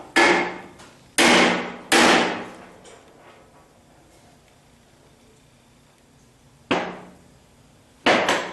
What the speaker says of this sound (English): maybe a hammer will help now.